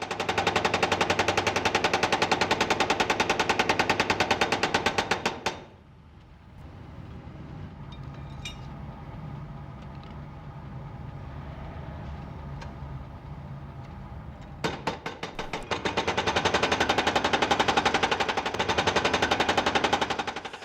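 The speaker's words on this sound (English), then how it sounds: "The file advances automatically beneath the cutting chisel as each tooth is struck into the steel." A traditional file-cutting machine strikes a chisel into steel to raise each tooth of a file. Rapid, even machine-gun-like hammering runs loud for several seconds, pauses to a low mechanical hum, then resumes at the same fast rate.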